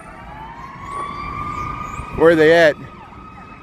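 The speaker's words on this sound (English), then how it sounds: "Here comes some sirens." Emergency vehicle sirens wail through Chicago streets near the river, a steady distant tone joined by a brief louder warbling burst; a voice speaks over the city hum.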